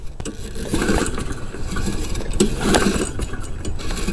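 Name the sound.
lawn mower engine running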